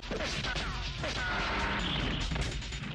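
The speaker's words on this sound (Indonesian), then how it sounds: "Saat Karan melompat, Laki menabrakkan mobilnya ke arah pintu hingga pintu itu hancur." A car smashes through a gate in an old Indian film action scene: a loud, dense crash of splintering and impacts that fills the three seconds, with no talking.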